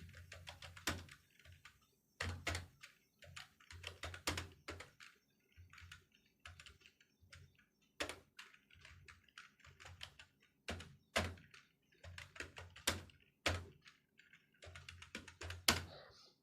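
Keys clatter on a computer keyboard while words are typed into a Microsoft Word document, arriving in uneven bursts of close, crisp clicks and taps separated by brief pauses.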